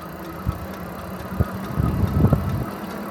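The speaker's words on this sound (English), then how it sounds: "we're going to go ahead and just twist the throttle here and see what it can do" A Hiboy P6 e-bike set to speed 5 pulls away from a dead stop on full throttle with no pedaling, giving a low motor and road rumble that swells and grows busier over a few seconds.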